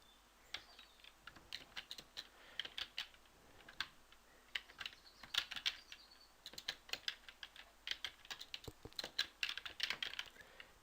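Quiet computer keyboard typing as ABAP code is entered, irregular bursts of close key clicks with short pauses between words, alone in a calm room.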